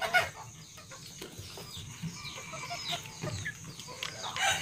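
Chickens cluck and call nearby amid a low, noisy farmyard background, with scattered squawks and a rooster crowing faintly.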